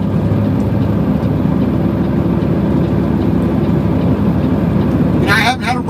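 A heavy truck engine pulling in 14th gear at around 35 miles an hour, giving a loud, steady low drone with road rumble throughout, broken near the end by a short rattling burst.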